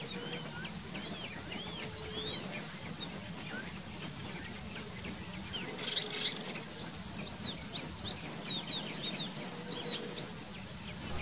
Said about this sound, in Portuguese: muitas aves cantam no local